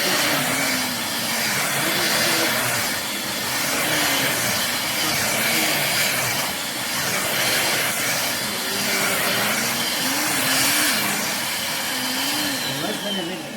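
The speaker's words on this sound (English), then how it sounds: "So let's see how it vacuums this floor" A Vazone corded stick vacuum cleaner runs continuously over a rug, giving a steady loud whirring motor drone with a faint wavering whine throughout, and no talk over it.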